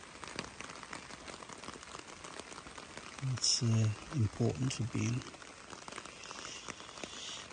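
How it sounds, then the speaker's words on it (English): Steady rain patters on a tarp sheltering a woodland night camp, a constant close hiss throughout, while someone speaks briefly over it partway through. "as you can hear, the rain has come, so I had to nip out and quickly put the tarp over"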